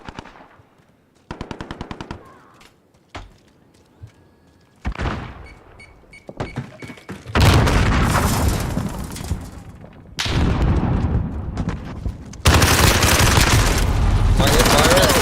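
Bursts of automatic machine gun fire from a first-person shooter video game, loud and dense, coming in several long sustained volleys after a few short scattered shots and clicks early on.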